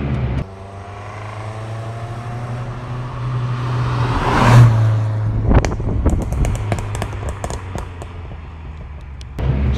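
A modified 1985 VW Golf GTI Mk2 engine hums steadily from inside the car, swells into a loud rev, then gives way to crackling pops and rattles before the engine drone returns.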